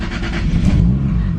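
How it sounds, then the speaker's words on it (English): A Toyota Supra engine fires up and settles into a steady low, rumbling idle, close and fairly loud, with no talk over it. "Now let's start the car."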